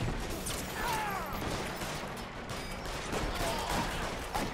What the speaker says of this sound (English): Yeah, Tommy gun!